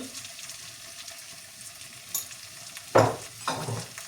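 Onions cooked with salt, turmeric, ginger paste and chilli powder sizzle softly in a pan, then a spoon scrapes and stirs in two louder close strokes near the end.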